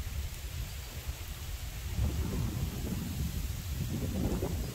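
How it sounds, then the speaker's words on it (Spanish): Steady rain pours during a thunderstorm at a carp fishing spot, with low rumbling thunder swelling in the second half under the constant hiss of rainfall. "estamos en medio de una tormenta"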